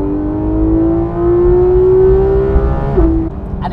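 Porsche 991.2 GT3 RS flat-six revving hard under acceleration, a loud close rising wail held steady before a quick shift and drop, alone without talk.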